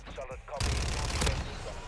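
Gunfire in the video game Call of Duty MW3 hits a pumpkin: a sudden loud burst of shots with a sharp crack, and a voice briefly heard.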